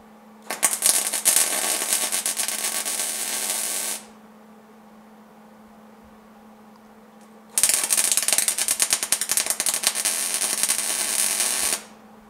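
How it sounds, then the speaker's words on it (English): Tack welding metal coated with weld-through primer produces two loud bursts of crackling, spattering buzz, each several seconds long, separated by a quiet pause under a faint steady hum. "Okay, let's get this welded up."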